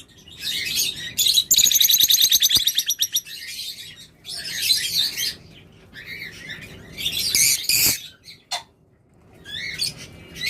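A pair of green master pet birds chirps and tweets in rapid bursts, with a dense trilling run early on and sharp calls breaking in between short pauses, loud and close.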